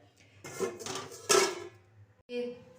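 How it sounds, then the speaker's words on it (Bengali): Two woks are taken out in a kitchen, giving a few clattering metal knocks and scrapes of pans in quick bursts, fairly close, with brief pauses between them. "আজকে দুটো কড়াই বের করছি, একটা মাংস আর একটা উচ্ছে আলু ভাজা"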